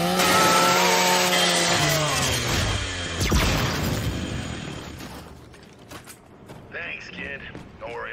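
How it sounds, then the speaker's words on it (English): A Lancer's chainsaw bayonet in Gears of War grinds and shreds through a metal custodial robot, a loud harsh revving whine with crunching, splintering debris that fades into rattling clatter and scattered mechanical noise. "Just use your Lancer's chainsaw."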